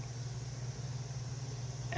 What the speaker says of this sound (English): You can actually hear the fuel pump running in the background.